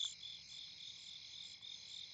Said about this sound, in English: I don't think I could go a day without hearing crickets